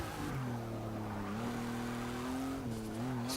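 A 1963 Volkswagen Beetle with stock handling laps a track in Forza 6, its engine holding a steady droning note that rises and dips with the throttle, loud and continuous without any talk.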